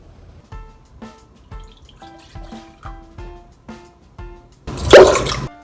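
A series of evenly spaced watery drips plinks, then a brief loud gush of warm water pours into a large bowl while making pizza dough.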